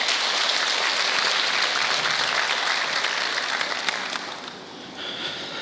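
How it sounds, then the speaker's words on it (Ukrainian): Dense applause from a theatre audience at a Ukrainian comedy show, a steady wash of many hands clapping for about four seconds before thinning out toward the end. "Під ваші оплески."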